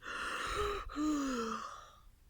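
A voice imitates a long, drawn-out yawn, a breathy inhale rising into a sliding, sighing tone that fades away, close and alone.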